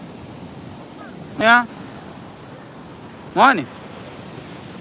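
Sea waves wash steadily onto a beach as a constant broad surf hiss, and a voice briefly speaks twice over it.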